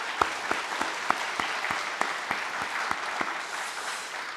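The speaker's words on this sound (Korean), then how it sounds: "격려의 박수 한번 해주십시오." A church congregation applauding in encouragement, a steady wash of many hands clapping with a few sharp individual claps standing out, moderately near and continuing throughout.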